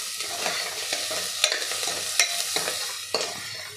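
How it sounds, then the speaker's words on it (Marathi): Onions and whole spices are stirred and sautéed in a pan for a chicken curry, giving a steady sizzle with several sharp scraping strokes of a spoon against the pan. "आता हे पुन्हा आपल्याला परतवून घ्यायचं आहे।"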